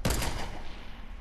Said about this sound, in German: Da hat ein Rocket Launcher. Gleich knallt.